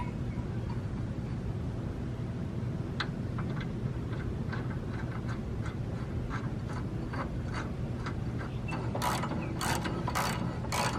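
A hand ratchet tightens bolts on a headlight turbo air duct and bumper support, giving quick runs of close, crisp clicks over a constant low background hum, with a denser burst of clicks near the end.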